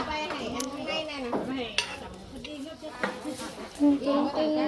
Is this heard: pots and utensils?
yes